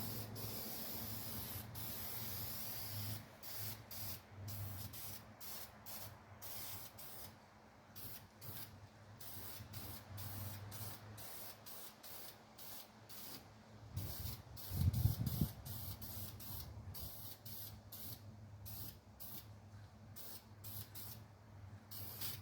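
Aerosol spray paint hissing onto a 1951 Chevy truck engine in steady bursts separated by brief pauses, close and fairly loud, with no talking.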